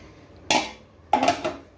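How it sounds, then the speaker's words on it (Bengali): Fish curry tipped from a cooking pan into a serving bowl, giving two clattering bursts of metal and ceramic contact close by, the second longer with a scraping tail, over a quiet room. "মাছটা বাটিতে ঢেলে নিলাম"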